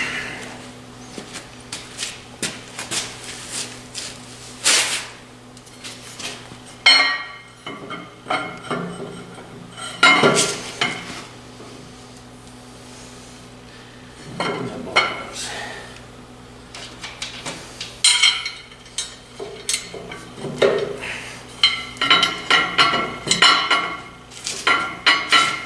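A metal adapter plate for fitting a diesel engine to a jeep transmission is tapped by hand with a hammer, giving sparse, irregular sharp metallic knocks and clinks over a low shop hum.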